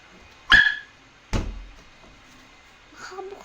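A dog barks twice, sharp and close, with a short gap between, followed by faint whimpering or child babble.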